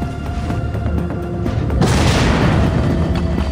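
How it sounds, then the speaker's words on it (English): A deep explosion of set charges in the stealth shooter Splinter Cell Conviction, a heavy low boom that swells and rumbles on amid a game soundscape, with no talk. "the guys will hear the explosion"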